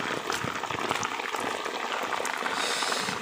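Rainwater flows over a rural path after a downpour, a steady, fairly close rushing and gurgling wash with no voices.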